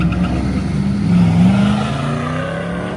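Junior drag racing cars making bracket-race passes down a drag strip, their engines a steady, loud, close drone that swells slightly mid-way.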